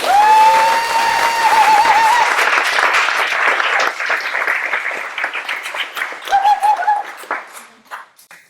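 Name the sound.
applause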